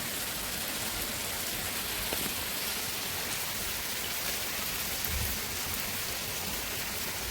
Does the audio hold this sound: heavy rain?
yes